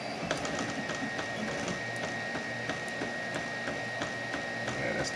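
An Alunar 3D printer runs steadily and quietly, its stepper motors giving a continuous whine with regular ticking movements and faint shifts in pitch, with no one talking.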